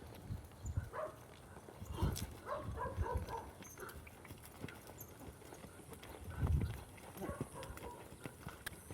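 A horse lopes on soft ground, producing muffled, uneven hoofbeat thuds in loose groups, moderately close and fairly faint, with a faint voice and background noise around them.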